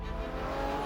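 Ferrari F12 Berlinetta V12 cruising at low revs, a steady deep engine drone with a low rumbling hum holding level throughout, close and continuous with no talk.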